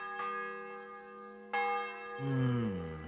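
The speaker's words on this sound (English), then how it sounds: "The bell's ringing for Hans the 5th time." A church bell in the video game Kingdom Come: Deliverance 2 strikes twice, each stroke ringing out with a long, humming decay, followed by a different sliding tone.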